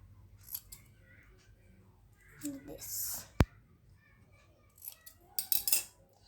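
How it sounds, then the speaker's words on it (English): Scissors snip through excess paper while a handmade birthday card is trimmed: a few short, close crisp cuts and rustles in a quiet room, with soft speech between them. "And let's cut out this excess paper"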